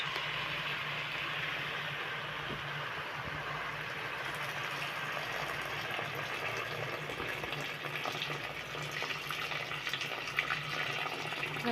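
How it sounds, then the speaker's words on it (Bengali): Water pours steadily into a cooking pot of vegetable khichuri, a continuous rushing, filling sound held close and at even loudness throughout, with no speech. "আমার কষানো শেষ, আমি এখন পানি দিব।"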